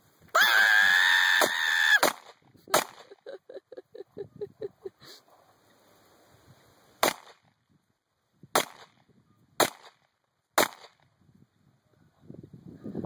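Several sharp gunshots from a gun, fired one at a time at uneven intervals outdoors, each a loud crack with a short ring, following a loud shrill wail at the start.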